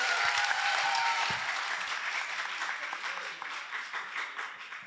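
An audience at a debate applauds in a dense wash of clapping that begins full and gradually thins and softens over several seconds.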